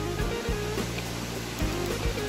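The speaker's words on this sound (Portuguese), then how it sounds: "já estamos avistando a cachoeira daqui." The Pavuna waterfall near Botucatu, São Paulo, gives a steady broadband rush of falling water heard from a trail, constant and fairly distant, with a few low thumps near the microphone.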